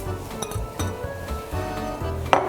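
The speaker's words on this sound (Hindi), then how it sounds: "ये जितने भी हमारे ड्राई गरम मसाले हैं इसे मैं अब डालूँगी यखनी के अंदर" Dry whole garam masala spices drop into a yakhni stock pot with close, light clinks and rattles. A sharper clink comes near the end.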